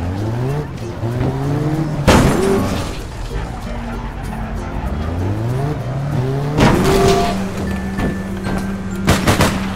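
A car engine in APB: Reloaded revs and shifts up through the gears, with tire squeal and a couple of sharp bangs layered over the driving.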